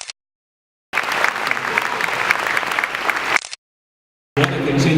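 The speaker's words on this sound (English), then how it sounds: "Let's have a round of applause." Audience at a comic convention panel giving a round of applause, loud dense clapping in bursts separated by abrupt silent gaps.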